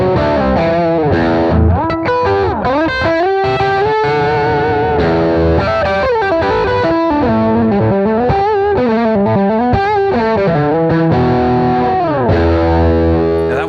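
Distorted electric guitar played through a Sonicake Sonic IR pedal on a Marshall 1960s cab impulse setting, a loud, continuous melodic line with bends and sustained notes and no talking.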